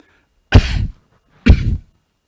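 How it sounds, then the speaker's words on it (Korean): Two loud, close coughs about a second apart, each a sharp burst trailing off briefly, with silence around them. "기침이 아직 좀 덜 나갔고 죄송합니다"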